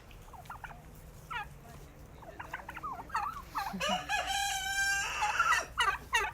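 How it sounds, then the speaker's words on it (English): Turkeys gobble in a burst of rapid, warbling calls, loud and close, with a few scattered clucks and calls leading up to it. "Hello, turkeys."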